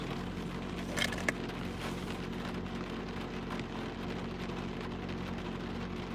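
Steady rain falls on a wet Monday afternoon, a dense even hiss with a couple of brief sharper taps near the start and no voices.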